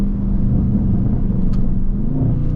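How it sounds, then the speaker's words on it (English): A 600-horsepower Dodge Scat Pack with a straight-pipe exhaust gives a deep, steady, close rumble while driving, with an occasional sharp crackle popping through. "if you hear it closely, you'll hear the crackles of the car"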